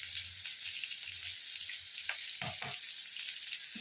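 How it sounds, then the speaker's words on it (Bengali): Potatoes frying in oil in a pan, a steady bright hiss of sizzling throughout with a few brief stirring clatters near the middle. "আলুটা ভেজে দেখুন লাল লাল হয়ে এলো"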